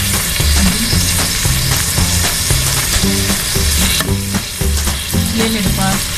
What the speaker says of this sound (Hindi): अभी मैं इसे भून देंगी।